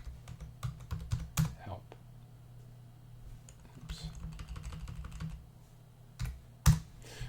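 Computer keyboard typing a software command, with bursts of quick keystrokes and pauses, a low steady hum underneath and no talking.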